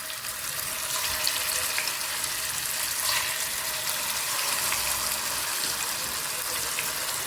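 Fish sizzles steadily in hot oil in a pan for a fish biryani, a dense continuous frying hiss with no talk over it.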